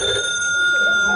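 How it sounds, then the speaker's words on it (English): A telephone rings in a phone booth in an old-time crime radio drama, a steady bright electric bell tone sustained throughout, with voice-like sound mixed underneath. "I hadn't been there 2 minutes before the phone rang."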